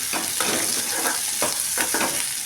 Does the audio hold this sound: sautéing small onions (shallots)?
yes